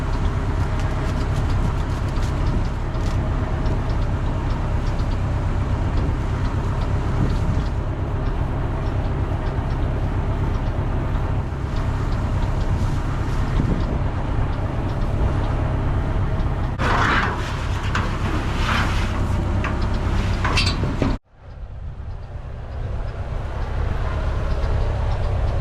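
A heavy two-wheel-drive tractor engine rumbles steadily and close by, a low drone that cuts out abruptly near the end before idling back up.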